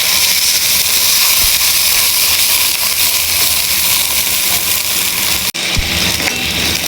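Onions frying in hot oil, a loud, continuous sizzle and crackle close up, with a brief dip as something is stirred or added.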